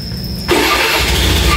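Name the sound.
motorcycle engine starting with remote ignition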